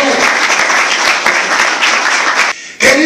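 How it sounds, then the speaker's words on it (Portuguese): A church congregation claps together in loud, dense, sustained applause close by, which breaks off briefly near the end before a final burst returns. "Palmas para o Rei de Jesus"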